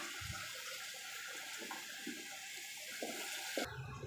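Water runs and splashes into a pot while beef soup noodles are cooked. The pouring is soft and steady, with a few faint clinks and a brief louder splash near the end.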